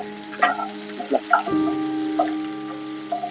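Thinly sliced onions with cumin sizzle steadily in a pan, with scattered clicks and scrapes of stirring over a constant frying hiss.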